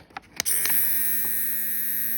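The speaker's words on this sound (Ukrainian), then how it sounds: "Отака ось бритвочка. Ось вона. Отак" A newly unboxed men's electric shaver switches on after a couple of handling clicks, then settles into a steady, high-pitched electric buzz that holds at constant level, close to the listener, with no talking.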